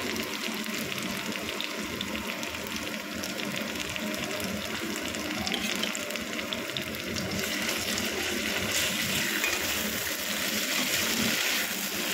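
Water is poured into a cooking pan holding chili, ginger and cumin paste, making a steady loud gushing and sizzling wash that runs unbroken for several seconds, with no talk.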